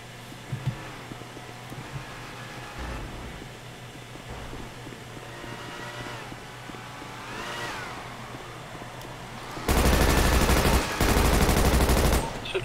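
Rapid automatic gunfire from a GTA roleplay shootout aimed at a car's tires, loud bursts near the end over a busy game backdrop of engines and shouting.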